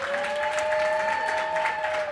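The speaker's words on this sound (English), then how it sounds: "Round of applause for Sean Lee." Studio audience applause on a Dallas Cowboys sports talk show, a steady, even wash of clapping lasting about two seconds with a faint sustained tone running beneath it.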